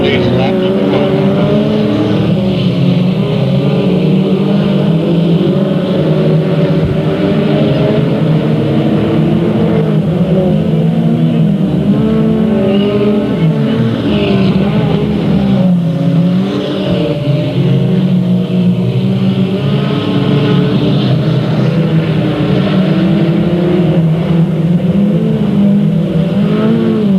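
Race cars lap Delta Speedway on a 1999 race night in a dense, continuous engine roar with rising and falling revving pitches as the field passes, while an announcer talks over it.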